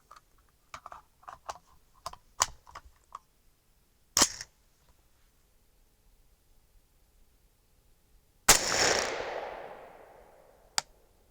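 A 6.5 Grendel rifle fires one 120-grain Speer Gold Dot round: a single loud, sharp report late in the sequence with a decaying tail, preceded by scattered small clicks and handling noises.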